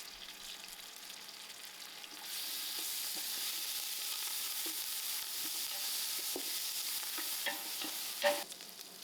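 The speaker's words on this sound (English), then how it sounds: "Allow this cinnamon to fry. I'm adding in my ginger garlic and my curry leaf and thyme." Cinnamon, ginger garlic, curry leaf and thyme frying in oil in a pot over an outdoor fire, a soft steady sizzle that swells louder after a couple of seconds, with faint stirring scrapes and a brief clatter near the end.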